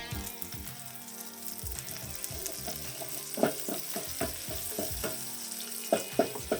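Onions and garlic fry in a pan with a constant crackling sizzle, broken by scraping stirs and sharper pops that grow more frequent toward the end; no voices.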